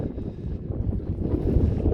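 Wind buffets a microphone on the Stockholm waterfront at Barnängsbryggan, a low rumbling roar that swells and gusts unevenly throughout, loud and close with no other clear sounds.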